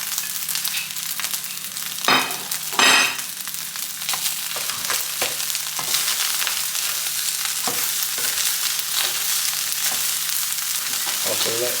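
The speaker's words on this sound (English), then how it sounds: "I may as well throw in all the other ingredients back in to get them to re-warm and cook a little bit further." Fried rice ingredients frying in a pan, a loud continuous close sizzle with scraping clatters of stirring throughout and no speech.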